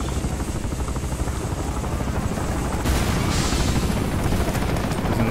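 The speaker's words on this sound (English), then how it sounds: "their freaking helicopter is not vulnerable to small arms fire" Enemy helicopter in Bulletstorm, a continuous loud rotor roar mixed with rapid bursts of small arms fire, dense and close, with the intensity rising slightly partway through.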